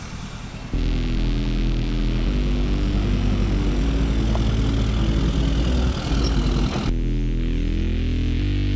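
A steady, loud engine drone with road rumble fills the cabin of a GMC Denali SUV being driven, continuous and close with no talking until it drops off near the end.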